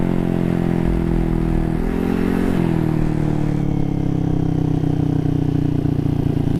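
A Honda Ruckus scooter fitted with a GY6 stroker engine with a stroker crank and 63mm bore runs close by with a loud, steady droning hum that shifts pitch slightly while riding.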